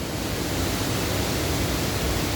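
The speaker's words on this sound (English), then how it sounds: "Now we're coming up on the waterfall section of our river" Indoor waterfall along a hotel's artificial river, a steady, even rush of falling water filling the space at constant loudness with no pauses, close and alone.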